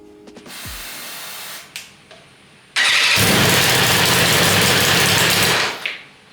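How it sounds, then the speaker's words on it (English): A rebuilt, crash-damaged BMW S1000RR motorcycle engine cranks with a few mechanical clicks, then fires and runs loud and rough for about three seconds before cutting off. "We've got a running engine!"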